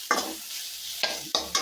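Shrimp and onions fry in oil with a soft sizzle broken by three sharp scraping stirs of a utensil against the pan.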